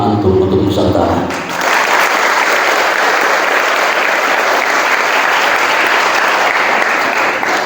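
An audience at an Islamic boarding school Maulid event breaks into loud, sustained applause after a brief moment of talk, and the clapping continues steadily to the end.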